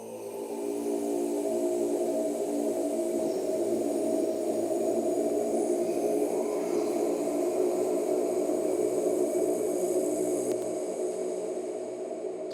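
Heavily processed Mongolian throat singing sample, a dense sustained drone of layered low harmonics smeared by a very long reverb tail, steady and loud throughout with airy hiss above.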